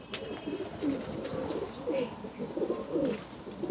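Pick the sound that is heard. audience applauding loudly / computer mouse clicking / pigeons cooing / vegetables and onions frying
pigeons cooing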